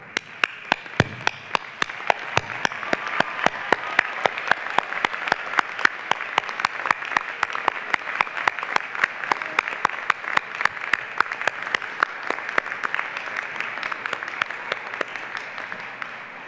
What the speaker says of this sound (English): give a huge round of applause to the people who have supported you throughout, to your parents, your families, and your siblings